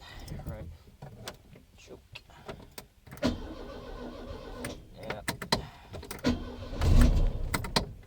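A 1980 Ford Fiesta Mk 1 with a 1117cc engine cranks over in several short, uneven bursts as it struggles to start. Clicks and thumps break up the cranking, and people speak briefly and quietly between the attempts.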